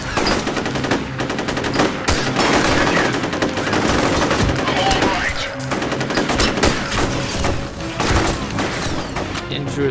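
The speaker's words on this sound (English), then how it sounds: "this assault rifle has a bit more range than the submachine gun" Assault rifle fire in the video game F.E.A.R., dense rapid bursts and gunfire booms running nearly continuously, loud and close, with game sound effects mixed in.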